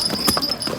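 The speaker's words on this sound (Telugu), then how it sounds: "ఇక మనం ఇక్కడ గుర్రం ఇదే" Horse hooves clip-clop at a steady walking pace on a trail in the Baisaran valley near Pahalgam, Kashmir, with several close, distinct strikes over a faint steady hum.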